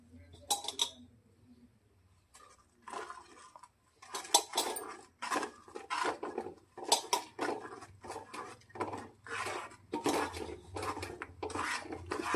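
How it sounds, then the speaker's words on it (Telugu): Ground chana dal being stirred into melted jaggery in a pan: a spoon repeatedly scraping and clinking against the pan in irregular bursts, close and fairly quiet, with a spoken voice now and then. "ఈ విధంగా శనగపప్పును వేసుకుంటూ కలుపుకోవాలి"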